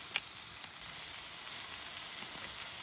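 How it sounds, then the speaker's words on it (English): Olive oil and garlic sizzle in a hot pan on a camp stove, a steady close frying hiss with no talk over it. "Throw a little of that olive oil and garlic."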